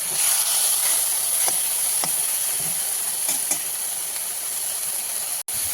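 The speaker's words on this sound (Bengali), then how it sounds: "চিংড়ি মাছ ভাজা হয়ে গেছে, এবার আমি নামিয়ে নেব।" Small prawns frying in a wok, a loud continuous hiss and sizzle that holds steady throughout, with a sharp click near the end and no talking.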